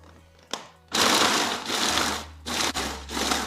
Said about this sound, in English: I'm just going to pulse the biscuits until it's broken down